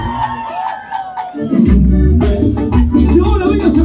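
Audience applause and cheering break out for comadre Sarina at a live comedy show in Lima, a loud crowd of clapping and whoops that swells after a brief lull and continues steadily.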